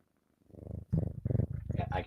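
A pet cat purrs with a low, steady rumble that starts faint and grows stronger, sitting close to the mic, while a person talks over it in the second half.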